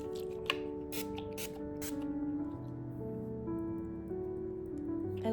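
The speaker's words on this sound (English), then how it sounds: "we're gonna start by using this face spray by Clinique" Several short hissing bursts of a Clinique Moisture Surge face mist spray, close by, over a steady low background hum.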